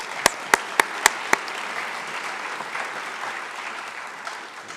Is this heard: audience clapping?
yes